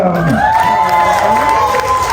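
A crowd at a science show at the Washington Summer State Fair cheers for a volunteer, a loud, sustained burst of shouts and whoops that includes children's voices and some applause.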